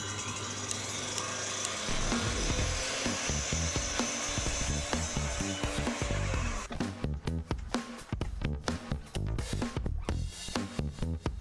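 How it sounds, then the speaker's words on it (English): A miter saw cuts 45-degree miters in wood: a sustained motor whine with a cut through the wood, then a run of sharp, choppy scraping bursts near the end, with no voices. "Next I set up my miter saw to cut in these 45-degree miters."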